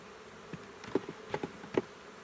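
Honeybees buzzing around brood frames lifted from a smoked hive, with a few brief, louder buzzes rising over a faint steady hum as bees pass close.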